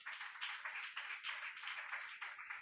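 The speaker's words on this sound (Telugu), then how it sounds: "నమ్మితే కొట్టని చప్పట్లు గట్టిగా." An audience at a Telugu church sermon claps in a steady, even rhythm for a few seconds, fairly soft and a little distant, with no talk over it.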